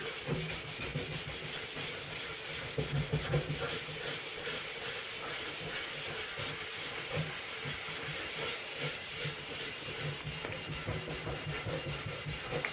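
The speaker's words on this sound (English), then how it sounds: "I guess it will if you scrub it long enough" A stainless steel frying pan being scrubbed, a continuous rhythmic rubbing and scouring heard close by, with regular back-and-forth strokes and no talking.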